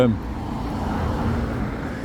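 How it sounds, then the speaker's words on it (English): Another car comes along a narrow cut-through road in Buslingthorpe, Leeds, a steady low rumble of engine and tyres at moderate distance, with a voice talking over it. "Another car coming."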